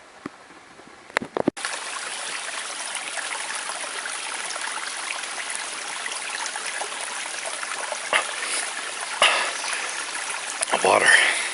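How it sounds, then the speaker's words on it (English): Running water of a small mountain stream on the Appalachian Trail in North Carolina rushes steadily and close, a continuous broadband wash with a few bumps and handling noises near the start and end. "Water."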